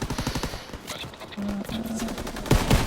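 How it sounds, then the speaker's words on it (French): Machine gun fire in Call of Duty, rapid bursts of shots at moderate loudness with a steady tone sounding briefly in between, then another close volley at the end. "il y a une mitrailleuse qui vient de nous balancer des trucs de la merde là"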